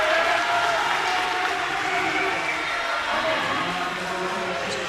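Spectators at a water polo championship final in a pool hall applaud in a steady, moderately loud wash of clapping, with a commentator talking over it.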